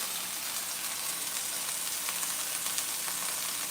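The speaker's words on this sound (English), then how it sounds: "we got some ground beef sizzling" Continuous crackling sizzle of ground beef frying in a pan, a steady hiss with tiny pops, close by and uninterrupted.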